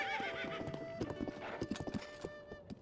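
A horse in Zelda: Tears of the Kingdom whinnies and clops its hooves in a steady, close gait, with a brief neigh near the start and the hoofbeats carrying on under a soft game tone.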